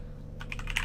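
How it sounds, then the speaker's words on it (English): Quick keystrokes tap on a computer keyboard as a Windows 11 command is entered, a short run of close, light clicks after a brief pause. "you only need to type the WSL"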